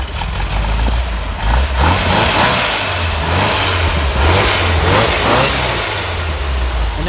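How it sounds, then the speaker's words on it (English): The engine of a custom Mini T is revved repeatedly, its pitch rising and falling in several loud surges over a steady idle, close by. "with even revving her up, there's no blow-by, no smoke"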